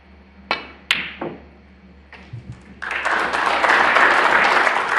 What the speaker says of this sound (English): Deserved applause for that one